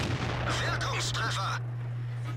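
An E-25 Tier 7 premium tank destroyer fires its gun in World of Tanks, a single sharp booming shot with a rumbling decay over a steady low engine hum, while a voice talks.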